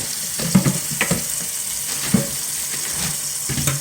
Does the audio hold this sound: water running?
yes